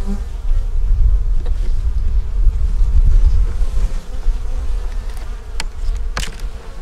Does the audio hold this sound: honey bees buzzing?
yes